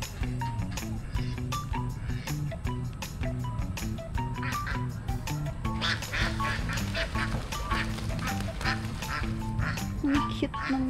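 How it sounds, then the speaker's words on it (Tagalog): Ducks quack over and over, loud and near, in a busy overlapping chorus. Voices talk underneath at the resort Balay Arceo in Pulilan, Bulacan. "Pato ba yan?"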